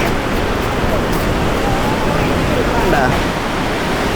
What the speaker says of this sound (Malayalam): ഇതിലിങ്ങനെ വെള്ളം വീണിട്ട് ഇങ്ങനെ ഒഴുകി ഒരു പാലത്തിൻ്റെ അടിയിൽ പോകും